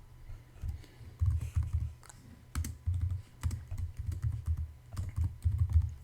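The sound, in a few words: typing code on a computer keyboard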